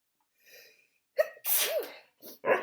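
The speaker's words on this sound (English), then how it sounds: "I know I sneezed." A single loud sneeze with a sharp intake before it, followed by a short breathy burst, close to the microphone.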